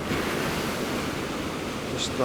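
Ocean waves surge against the incoming tide along a coast, a continuous broad wash of surf with steady rumbling roar and some wind buffeting the microphone, filling the scene without pause.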